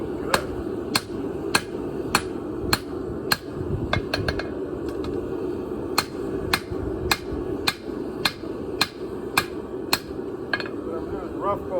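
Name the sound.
big hammer striking billhook blade on both sides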